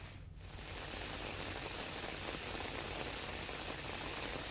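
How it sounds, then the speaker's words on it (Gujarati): Heavy monsoon rain pours down on a hill at Pavagadh, a dense, steady hiss of drops on surfaces that holds evenly throughout with no voices. "ડુંગર ઉપર મુશળધાર વરસાદ વરસ્યો"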